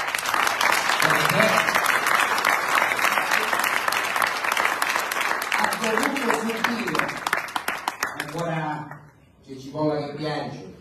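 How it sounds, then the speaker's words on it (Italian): An audience at a regional political assembly in Sicily breaks into dense, rapid applause for a politician, loud and sustained at first, then thinning as a voice speaks over the last few seconds. "Io devo ringraziare e fare un applauso al nostro onorevole Peppe Lombardo."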